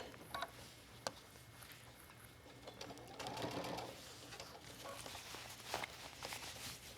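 A sewing machine stitches a zipper onto a pair of zip-off pants, running as a faint, quiet whir in short bursts with a few small clicks and taps between them.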